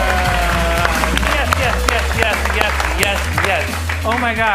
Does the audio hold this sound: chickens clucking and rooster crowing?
no